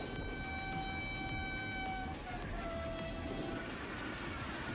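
A Pakistani railway train engine sounds a long multi-tone horn over a low, steady rumble, faint and at a distance.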